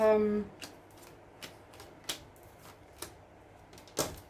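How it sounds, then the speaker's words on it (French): A tarot card laid down on a table during a reading: a brief voice at the start, then several separate soft taps and clicks spaced about a second apart, close and quiet. "Je vais mettre une carte ici."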